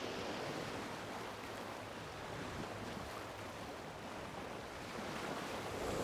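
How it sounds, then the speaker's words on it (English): Waves of an incoming tide wash steadily against the shore in a faint, continuous surf with some wind noise and no voices. "Sometimes I'll come here and just sit and listen to the water, listen to the tide coming in"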